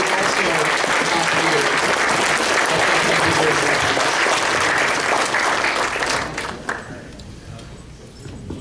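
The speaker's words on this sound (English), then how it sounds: "please stand up and just give them a round of applause" Loud, crowded applause from a standing audience at a convention closing ceremony, thick and continuous with cheering mixed in, holding strong for several seconds before thinning out and fading toward the close.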